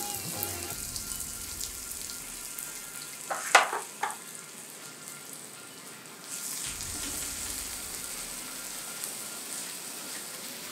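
Two medium-sized sliced onions frying on a hot tawa for street-style tawa chicken give a soft, steady sizzle, with a brief cluster of spatula clicks partway through and the hiss growing slightly fuller near the end.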